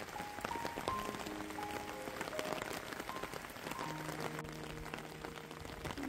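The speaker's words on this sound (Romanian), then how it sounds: "afară plouă. Și plouă bine de tot." Heavy rain falling outside, a dense continuous patter of drops on surfaces that holds steady and fairly quiet throughout, with faint tonal sounds mixed in but no voices.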